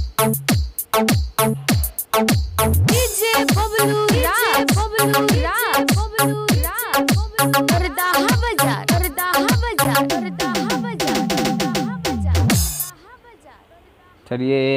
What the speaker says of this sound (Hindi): और ये जो यहाँ पे है ये रिवर्स किक है जो कि आप सुन सकते हैं